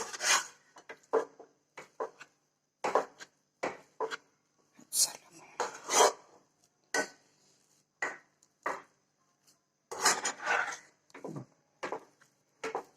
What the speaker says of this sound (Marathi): आता मला हे बटाटे मिक्स करून परत त्याला हलवायचे